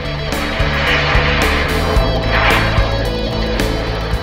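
An Avanti RC jet airplane with a turbine burning Jet A kerosene flies overhead, giving a loud, continuous whooshing roar with slight pulsing swells over about four seconds.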